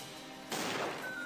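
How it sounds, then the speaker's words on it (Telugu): A bomb explodes in the Swordigo video game, a single sudden burst that jumps from a quiet hum and then sustains as a rough noisy roar through the short remainder. "వెళ్ళిపోయింది బాంబు"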